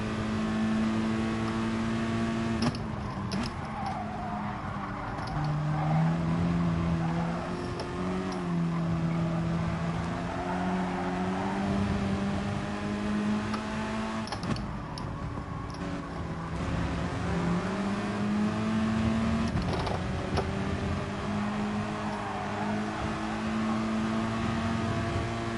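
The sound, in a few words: car driving away in Gran Turismo Sport video game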